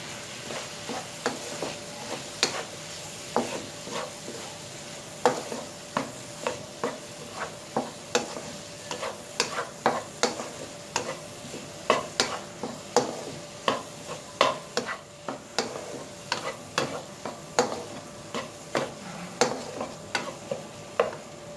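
Macaroni and chicken stirred in a pan for chicken chaat, a steady run of scraping spoon strokes with clicks and ticks over a low sizzle, close and alone with no voices.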